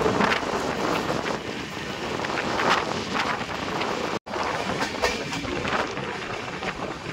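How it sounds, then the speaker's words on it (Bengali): A train rolls into platform 2 at Bardhaman Junction, a steady rumble with wind buffeting the microphone and soft rhythmic clacking, and a brief dropout midway. "2 নম্বর প্ল্যাটফর্মে দিয়েছে আমাদের ট্রেন।"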